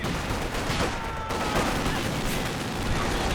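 A walking Stuka rocket barrage in Company of Heroes 2, a dense rumbling wash of rapid explosions and fire rolling on continuously, loud and close throughout with no clear gaps.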